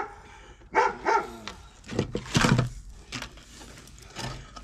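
A dog barks several times nearby in a sharp, irregular series, with wooden knocking and clattering from snare-making work in between.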